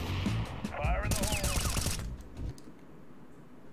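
Rapid automatic gunfire in the video game CS:GO rattles in dense, loud bursts for about two and a half seconds, with a voice speaking over it, then drops to quieter game ambience.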